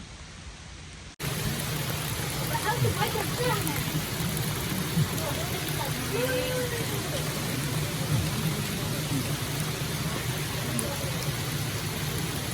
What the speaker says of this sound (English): It's pouring right now, so I'm gonna get out of the rain.